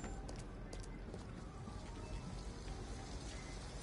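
Steady rain falls in the video game Detroit: Become Human, a soft continuous hiss with faint drop patter, fairly quiet and unbroken, with no talking.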